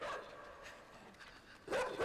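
A dog barks in the video game Inside, faint distant yaps through a low ambient bed, then a louder, closer bark burst near the end.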